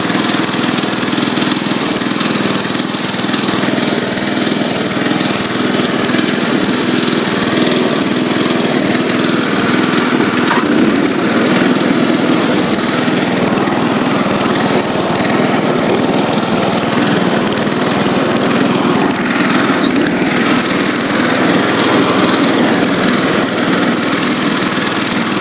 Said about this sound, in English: Turn the deck on up here.